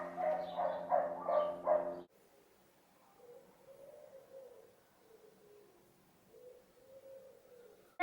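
Dogs bark in a quick run of about five sharp, close barks indoors, then the room falls quiet apart from faint, soft cooing-like tones.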